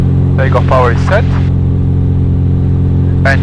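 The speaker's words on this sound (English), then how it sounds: "Takeoff power is set." A light aircraft engine drones loud and steady at takeoff power on a flight departing Borkum, Germany, a constant heavy roar throughout with brief cockpit talk over it.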